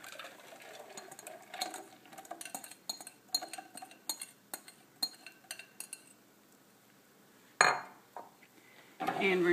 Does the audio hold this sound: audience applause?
no